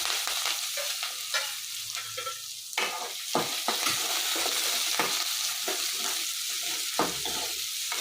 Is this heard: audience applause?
no